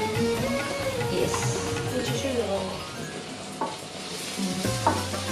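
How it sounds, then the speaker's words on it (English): Onion frying in oil until golden brown sizzles continuously while a utensil stirs and scrapes the pan, and a person talks over the cooking. "we will cook it till the onion becomes a bit golden brown in color"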